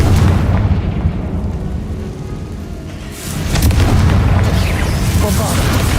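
Confringo blasting-spell explosions in Hogwarts Legacy: a loud booming blast rumbles at the start, eases off, then a second heavy burst erupts midway, with a voice heard amid the din.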